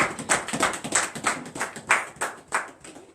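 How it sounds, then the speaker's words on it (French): A congregation at a morning prayer service in Benin claps in acclamation, sharp hand claps in a brisk, even rhythm of about three per second, close and lively with no talking over them. "Donnez une acclamation à notre Seigneur Jésus-Christ."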